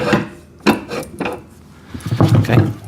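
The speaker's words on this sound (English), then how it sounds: "So I'll just slide that axle through." A metal axle slid through a drain cleaner machine, giving a few close scraping and clinking bursts of metal against plastic and parts, separated by short pauses.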